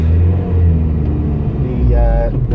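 A Honda DC5 with individual throttle bodies and a K-series engine idles nearby with a loud, steady, throbbing rumble, while a voice speaks briefly over it near the end.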